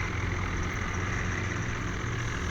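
A tractor engine idles in a tug-of-war video game, giving off a steady, even, low rumble with no voices.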